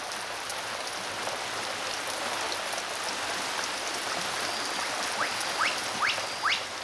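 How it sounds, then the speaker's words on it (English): Steady rain pours over Madagascan rainforest in a continuous hiss, with a few sharp drip or chirp-like accents near the end and no voices. "The downpours of rain are absorbed by the vegetation and soil like a giant sponge"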